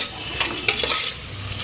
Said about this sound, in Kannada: ಚೆನ್ನಾಗಿ ಫ್ರೈ ಮಾಡ್ಕೊಳ್ಳಿ ಒಂದು 5 ನಿಮಿಷ.